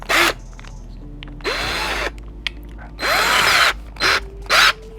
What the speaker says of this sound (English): You put this in a drill, and it makes changing your strings a lot easier.